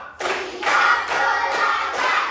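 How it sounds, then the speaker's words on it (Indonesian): Children clapping in a counting clap game in a classroom, several loud group claps landing roughly every half second, each one ringing briefly before the next. "tepuk 1, tepuk 2, tepuk 3, tepuk 4, tepuk 5"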